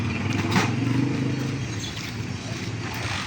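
A motorcycle rides home from a hospital through traffic, its engine a steady close drone mixed with road noise and passing vehicles, with no talk.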